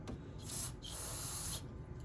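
Cleaner is sprayed through a straw onto carbon deposits in a Toyota Sequoia engine, heard as two close hissing bursts, a short one and then a longer one, against quiet background.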